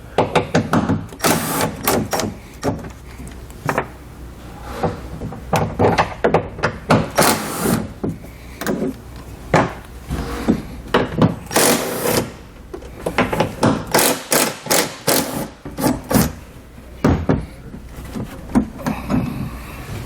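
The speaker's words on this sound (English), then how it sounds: "We're going to start with a 10mm socket. We're going to remove the 4 bolts holding our door in place." Ratcheting 10mm socket wrench removing the four door bolts on a 2020 Honda Pioneer 1000-5 side-by-side, rapid clicking bursts and metallic rattles repeating close by with short pauses between runs.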